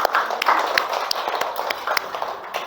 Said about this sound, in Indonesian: beri tepuk tangan buat Pipi ya